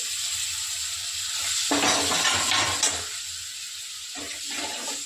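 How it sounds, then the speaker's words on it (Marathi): Tomatoes hit hot frying masala in a pan for a Maharashtrian soybean curry, setting off a loud burst of sizzling and spitting that swells for about a second and then settles back to a steady low fry. "हा मसाला टाकल्यानंतर त्यामध्ये लगेच टोमॅटो टाकायचे"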